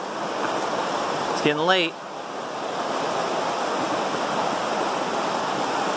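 River water rushing past a hiking trail crossing, a steady, broad roar close by throughout, with a brief spoken remark near the start.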